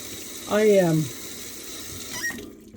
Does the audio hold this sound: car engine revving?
no